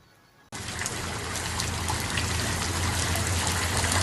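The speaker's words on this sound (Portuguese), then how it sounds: "Oh, meu Deus, a água levando a caminhonete" Floodwater from intense rain rushing around a pickup truck as it sinks in a flooded street in Luís Eduardo, a loud, steady, churning flow that starts abruptly after a quiet moment and continues without pause.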